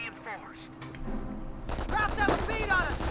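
A German MG42 machine gun opens up in Company of Heroes 1, quiet scattered sounds first giving way to a loud, dense burst of rapid fire in the second half, with faint voices mixed in.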